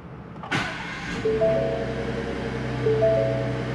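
A Ford F-150 EcoBoost Tremor fitted with a Whipple upgrade cranks with a sharp start-up burst, then settles into a steady idle hum with faint whining tones over it.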